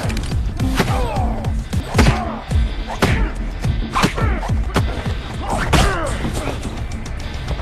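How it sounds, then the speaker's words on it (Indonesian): Heavy thuds and whacking impacts from punches and blows in a film fight scene, a rapid irregular series of loud close hits with grunts and scuffling between them. "Victor menghampiri Mason dan menghajarnya"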